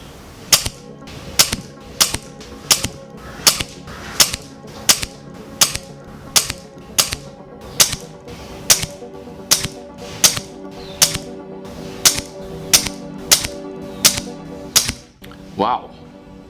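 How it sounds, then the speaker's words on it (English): Brocock Concept XR Lite .22 air rifle firing H&N pellets, a long series of sharp evenly spaced shots roughly one per second, close and crisp, with brief mechanical action sounds between shots. "let's see what they do out of the Brocock XR Concept Lite .22."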